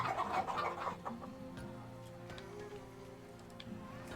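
Chickens in the video game Farthest Frontier cluck softly in the background, a few scattered calls over a low steady hum, with no one speaking.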